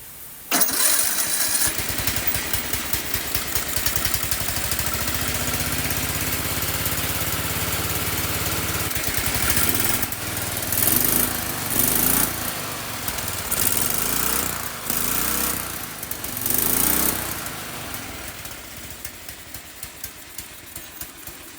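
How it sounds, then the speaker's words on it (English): A cold V-twin engine swapped into a racing lawn mower with the choke on cranks and catches, then idles with a steady low rumble before several loud revs rise and fall, close by and with no talking. "This is a cold start. I'm just going to demonstrate it."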